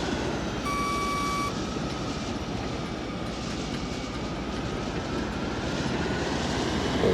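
In the ArmA 3 video game, a helicopter loses its engine during autorotation: a loud, continuous roar of rotor and engine noise with a brief high whine near the start, steady throughout without talk.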